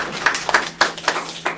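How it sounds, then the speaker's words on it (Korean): A few scattered hand claps from a small audience at a talk show on bitcoin regulation, quick sharp slaps in an irregular rhythm, close and fairly clear over a quiet room. "자, 박수 한번 주세요."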